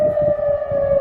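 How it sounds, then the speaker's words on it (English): An air raid siren wails in a single sustained, steady tone, loud and continuous across the whole moment with no voices. "now we can hear the air raid sirens in the light"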